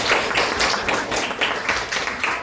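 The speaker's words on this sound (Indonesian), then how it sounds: "kasih tepuk tangan dulu boleh ya" Audience applause at an education program event, a dense steady patter of clapping from a group lasting the whole stretch, fairly loud and without talk over it.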